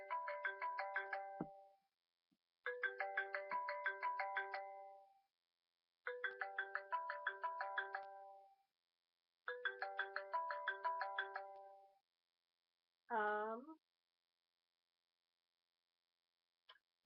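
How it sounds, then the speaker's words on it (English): Apple ringtone on a cell phone, playing four repeated bursts of bright chiming marimba-like notes separated by short pauses, then a brief rising tonal flourish, clear and close with no other sound. "The next one is the Apple Ring."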